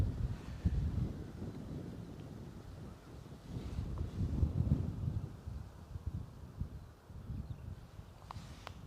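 Gusty wind buffeting the microphone outdoors at Bristol Airport, rising and falling in rough, low rumbling surges with a faint, distant background.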